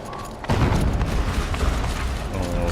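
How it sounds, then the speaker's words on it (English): A heavy in-game explosion in Horizon Zero Dawn bursts in suddenly and loudly, then rumbles on with a sustained low roar and crackle for a couple of seconds. "Explosion."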